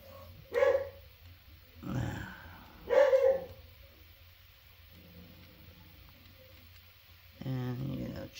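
A stubborn pet dog barks a few times in scattered, moderately loud bursts, close by, with a person talking at times over a low steady background hum.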